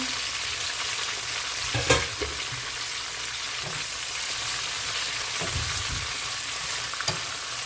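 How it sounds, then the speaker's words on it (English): Bell pepper, tomato, garlic, okra and string beans stir-fry in oil over a low flame with a constant, dense sizzle. Occasional spatula knocks and scrapes break through it, and the sound stays close with no talking. "you're just going to stir fry these"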